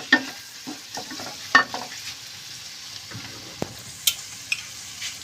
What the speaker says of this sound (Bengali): আমি সব কিছু এখন মিক্স করে বাকি সসগুলো দিয়ে দিব।